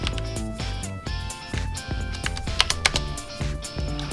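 Steady typing on a computer keyboard while entering terminal commands to rename a config file, rapid close clicks and key taps in an uneven rhythm, alone without voices.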